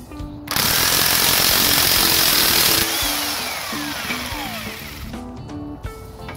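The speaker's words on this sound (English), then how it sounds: "And then you got your impact gun. It's a 22mm socket." Impact gun with a 22mm socket hammering loose a nut on a Honda Rincon 650 ATV during a rebuild, a loud continuous rattling burst of about five seconds, close up, rising in pitch as it spins free, with no voices.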